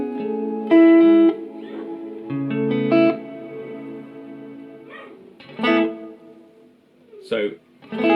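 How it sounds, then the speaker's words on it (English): Electric guitar through a Boss RV-6 reverb pedal in dynamic mode: sustained picked notes and chords ring out, the reverb tail ducking while playing and swelling between phrases, close and clear. "So dynamic, when you play, it kind of dips the reverb"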